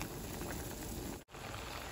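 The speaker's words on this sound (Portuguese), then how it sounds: "o macarrão tá cozinhando aqui" Pasta boiling in a pot of water on a home stove, a steady close bubbling hiss that runs evenly, then cuts out for an instant before resuming, with no one speaking.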